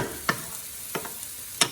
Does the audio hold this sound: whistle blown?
no